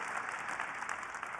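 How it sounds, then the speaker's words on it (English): Keynote audience applause, a steady, even patter of many hands clapping at moderate distance, brief and faint. "Big round of applause."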